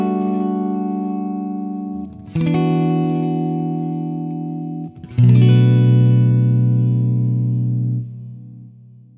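An electric guitar plays through a CorOS pedal with its vintage mode switched off, leaving the delay repeats unfiltered. Three sustained chords are strummed in turn and ring loud and bright with trailing modulation, with no voice.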